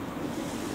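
Ocean waves at the seaside, a steady close rush of surf mixed with wind noise, with no distinct breaking crash in this short stretch.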